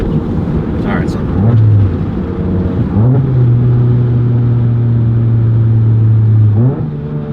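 Tuned Volkswagen MK7 GTI pulling hard in second gear, engine note climbing steadily in pitch for several seconds after a shift, loud and close from inside the car, ending with a brief dip as the throttle lifts.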